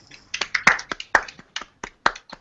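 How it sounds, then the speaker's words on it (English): A small group claps sparsely, with about a dozen separate hand claps coming in an uneven rhythm. The claps are close and fairly loud, and there is no talking. "We should all clap for Kevin right now."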